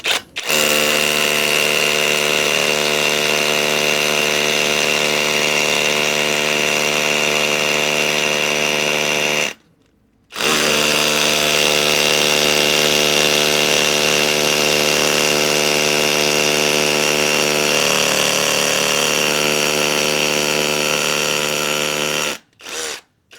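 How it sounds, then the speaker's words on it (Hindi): A Dongcheng DCZC22 cordless rotary hammer in rotary hammer mode drills a hole with a 5 mm bit, giving a loud, steady, close whine that runs for about ten seconds, cuts out briefly, then starts again and continues at the same pitch. "इस मशीन में हमने लगाया है 5 mm का ड्रिल बिट, जिसको हम डायरेक्टली छेद करके आपको दिखाने वाले हैं"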